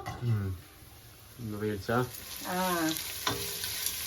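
Gravy sautéing in a pan gives a steady frying sizzle that runs under a person talking throughout.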